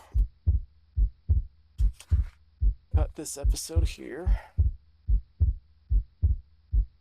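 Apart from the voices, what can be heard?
heartbeat sound in Minecraft video game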